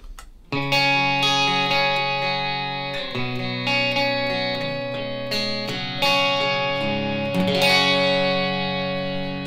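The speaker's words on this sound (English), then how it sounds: "with just the octave up function to just give me that kind of 12-string kind of sound" Clean electric guitar chords run through an Electro-Harmonix Pitchfork pedal set to octave up for a 12-string-like shimmer; sustained strummed chords ring out and change several times, moderately loud and alone.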